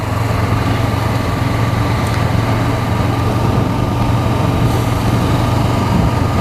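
A 2016 Honda CB500F motorcycle engine on a test ride, a loud steady drone with a constant low hum, continuous throughout the clip and layered with rushing wind, with no talking.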